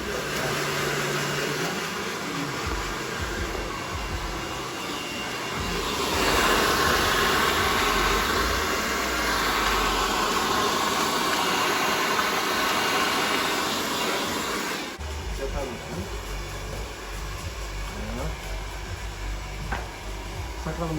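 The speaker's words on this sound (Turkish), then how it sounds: "Evet, bir fön yiyelim." Hair dryer blow-drying a customer's hair in a barber salon in Germany, a steady loud whooshing roar that continues throughout, its pitch shifting as the airflow changes, with faint talk underneath.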